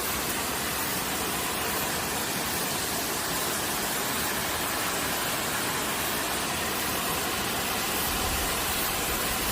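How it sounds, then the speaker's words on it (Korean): A mountain valley waterfall. Its steady, dense roar of rushing water runs unbroken and loud from start to end, with no other sounds standing out. "계곡의 폭포 소리가 너무 시끄러워서 잘 들리시는지 모르겠네요"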